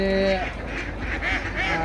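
Geese on a duck farm honk in several loud, nasal calls close by, one after another, with other fowl noise around them.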